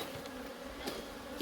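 Honeybees hum faintly and steadily from an opened hive box during an inspection, a quiet continuous buzz with no voices.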